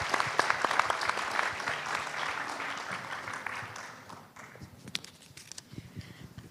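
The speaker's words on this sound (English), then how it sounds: "if I can invite all of you to give them a round of applause" Audience applause for seminar speakers and a moderator at a financing transition event in ASEAN, sustained dense clapping that thins toward the end, with a few louder claps standing out.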